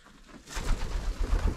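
Pigeons in a backyard coop give a soft, low cooing that starts after a brief quiet moment and continues in close, rolling pulses.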